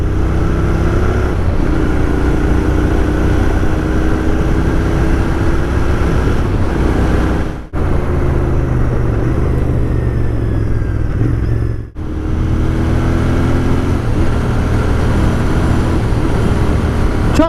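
A Royal Enfield Interceptor 650 motorcycle accelerating up through the gears on the road, a steady loud engine drone rising in pitch with two brief dips at gear changes, alone with no talk.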